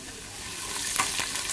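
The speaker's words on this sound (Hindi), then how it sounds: "प्याज ब्राउन हो गया तो मैं इसमें अदरक डाल देती हूँ" Chopped onion and ginger fry in a pan with a steady close sizzle and crackle, a few brief stirring scrapes rising out of the hiss.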